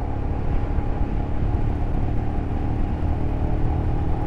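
Royal Enfield Scram 411 motorcycle pulling away in first gear, a steady, loud low engine rumble that holds fairly even throughout without clear revving peaks.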